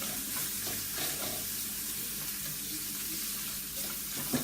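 Onions frying on a hob for chicken curry, a close, even sizzle with soft stirring texture and one small knock near the end.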